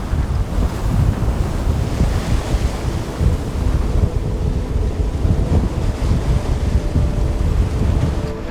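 Sailboat sliding through waves on the North Sea, with steady wind noise and close rushing, splashing water that continues throughout.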